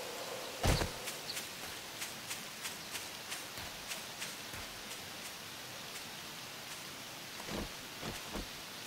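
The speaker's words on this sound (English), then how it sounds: "This rain is surprisingly more difficult." Steady rain falling in the survival game 7 Days to Die, a soft continuous hiss with faint, regularly spaced soft thuds like footsteps beneath it.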